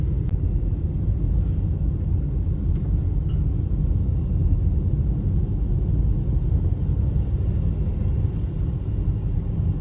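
A car drives a winter mountain pass near Denver, its steady low road rumble and engine drone continuous and close throughout, with no talking.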